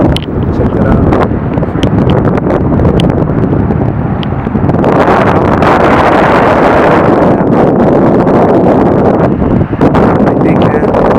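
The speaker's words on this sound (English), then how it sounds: "Still pretty windy." Strong wind buffets the microphone at Donner Lake, a loud, continuous roaring rumble with gusts swelling and easing throughout, no other sounds standing out.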